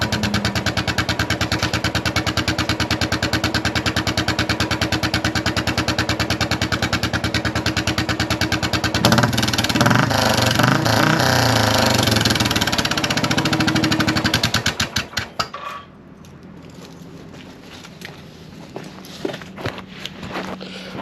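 Classic 500 motorcycle fitted with a Hitchcock's Goldstar exhaust with baffle, a loud close-up thumping idle and rev that runs steadily for about fifteen seconds, then cuts off, leaving quieter background with faint knocks.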